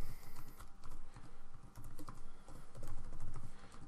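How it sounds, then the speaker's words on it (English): Rapid clicking of keys as a password is typed on a computer keyboard, close and steady in short bursts with brief pauses, no voices. "Just type in a password."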